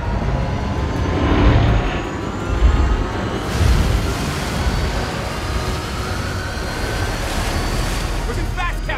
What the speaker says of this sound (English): John, start the engine.